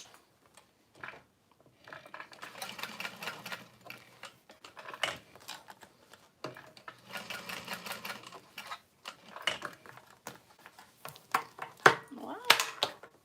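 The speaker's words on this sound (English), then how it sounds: "on the other end, I'm gonna sew a box stitch" A sewing machine runs in two bursts of stitching a box stitch on a leather tote strap, each burst a few seconds of rapid, steady mechanical chatter, with short pauses and handling clicks between and a brief voice near the end.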